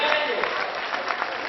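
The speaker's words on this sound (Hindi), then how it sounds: "हाथ उठा के ताली हो जाओ सारे लोग" A comic poetry gathering (kavi sammelan) in Gorakhpur, where the audience breaks into brief, brisk clapping that stays dense and even for the short moment.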